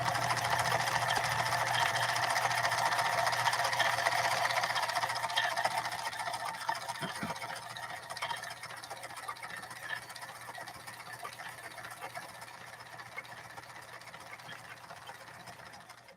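Japanese-built Kenmore sewing machine stitching through full grain leather: a steady, close mechanical whirr that eases off partway through, leaving a lighter, uneven running rattle with no one speaking.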